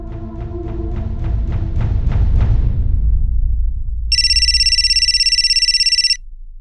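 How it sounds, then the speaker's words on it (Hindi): A telephone bell rings in a home amid a hurried morning scramble to leave for the office, a steady electronic trill sounding for about two seconds over a low background hum, with no one talking. "अरे किसका फोन है और आप उठा काहे नहीं रहे?"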